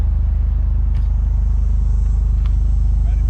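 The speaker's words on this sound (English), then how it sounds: "I'll start up the GTI, and you know, people can hear what that sounds like" A 2024 Volkswagen GTI 380 engine idles in a loud, steady low rumble with a faint blip near the start and another midway, close by and alone without voices.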